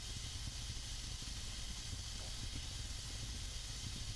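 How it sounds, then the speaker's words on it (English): Steady hiss of water boiling out of damp, poorly dried firewood burning in a fireplace, a continuous broadband sizzle with low crackles and rumble underneath, close and even throughout. "it's the sound of like the water boiling inside of the wood"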